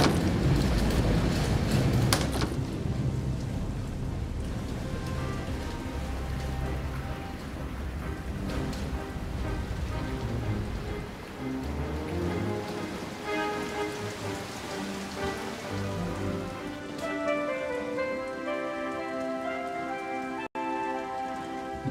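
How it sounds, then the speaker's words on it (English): Heavy rain pours down continuously in a dense, steady roar, with tonal music rising beneath it in the later part. "The rain covered the whole earth."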